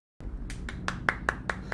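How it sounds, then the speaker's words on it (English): Hand clapping from a single person, about seven sharp claps at an even pace, close and growing slightly louder, with no talking. "Claps, everyone."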